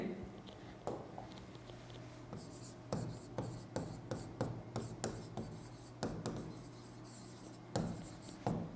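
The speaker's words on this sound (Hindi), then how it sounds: "हम लोग इसके अंदर क्या लिख रहे हैं, शॉर्ट कमिंग्स लिख रहे हैं इनके" Marker or chalk strokes on a board in a classroom, quiet scratchy taps and rubs in short bursts with pauses, fairly close, with a faint steady hum in the background.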